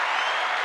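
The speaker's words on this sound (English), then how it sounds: "I still have the children clapping." Recorded children clapping used as a podcast sound effect, a brief burst of dense, bright applause heard alone.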